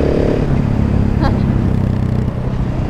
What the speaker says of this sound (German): Aha, eine Supermoto.